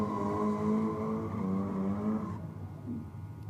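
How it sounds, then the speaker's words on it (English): A Nissan S15 doing a burnout at the Aeroflow Race 4 Real event, engine held at a steady high-revving drone with tire squeal, then easing off near the end, heard at a distance. "Another stout burnout from the S15 there."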